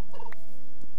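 Turkeys in a video game let out a short gobbling call, a quick burst of a few warbling notes near the start followed by a fainter call toward the end, with no talking.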